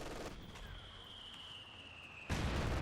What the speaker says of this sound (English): Mortar just comes on in to blast it, removing its cover.